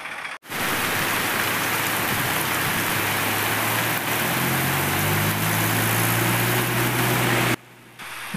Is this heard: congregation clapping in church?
no